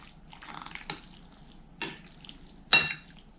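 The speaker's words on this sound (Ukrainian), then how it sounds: "Ретельно перемішаю." A utensil scrapes and stirs through a thick minced meat mixture in a bowl, with three sharp clinks against the side.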